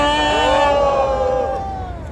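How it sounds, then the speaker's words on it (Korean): A crowd at an outdoor civic groups' press conference in Korea whoops and cheers loudly for about two seconds, a dense roar of voices that tapers slightly toward the end. "우리 모두 격려의 함성을 부탁드립니다"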